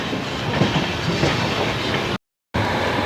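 Amrit Bharat Express train rolling into Ghaziabad Junction, a steady close rumble of wheels and carriages running continuously, briefly cut by a short gap before resuming.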